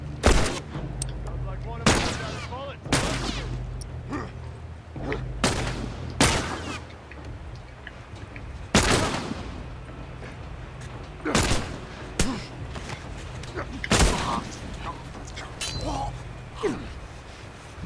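Gunfire rings out in The Last of Us video game: sharp, loud shots recur irregularly throughout, each one a distinct crack, some in quick pairs, over a low background rumble.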